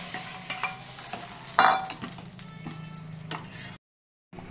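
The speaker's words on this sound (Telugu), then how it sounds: "తాలింపును ఈ రుద్దుకున్న పప్పులో వేయాలండి" Hot tempering with curry leaves poured into mashed gongura dal, giving a brief sharp sizzle burst amid stirring clatter, followed by a moment of silence.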